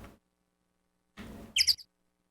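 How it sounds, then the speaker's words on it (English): Short bright chirps of birds in the Ace Attorney video game, a quick cluster of tweets after a soft rustle, fairly near and alone with no talk. "Those bird sounds."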